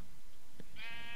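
A sheep bleats once in the blocky Minecraft world of an FTB modpack, a short, fairly close wavering baa rising out of steady game background noise, with no talking.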